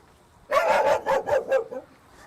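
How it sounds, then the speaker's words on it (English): A small dog barks in a quick burst of about five sharp, close yaps, loud and clear with no talk over them. "this little dog's a bit of a nuisance when I'm filming"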